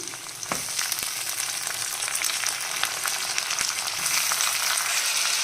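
Chopped tomato cooking with softened onions in a hot pan, a steady close crackling sizzle that holds evenly throughout with occasional small pops and stirring clinks, no voices.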